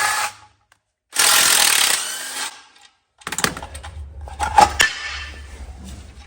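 Wrench work on the guard bolts of a 1979–1981 Honda XL500s motorcycle: a burst of broadband hiss, then a run of sharp metallic clicks and ratcheting clatter, close and fairly loud, with no talk.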